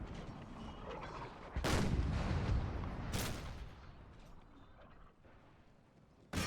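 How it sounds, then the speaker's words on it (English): Gunfire is aimed into a town in the Empire 2 mod strategy game. Several heavy, booming blasts are spaced a second or more apart, each followed by a rumbling tail over continuous low battle noise. "Gunfire into the town."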